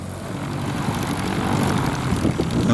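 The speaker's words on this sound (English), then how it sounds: "Another Matt, this time John's son Matt, taxied out in his Jodel DR-1050." A Jodel DR-1050 light propeller aircraft taxis out, its engine giving a steady, moderately loud buzzing drone that swells slightly as it moves.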